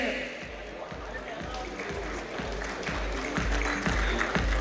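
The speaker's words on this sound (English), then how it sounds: "Okay, that really deserves huge claps, everyone out here." Audience at an automotive dealers' awards ceremony claps in a steady sustained round of applause, rhythmic and moderately loud, with a presenter speaking over it.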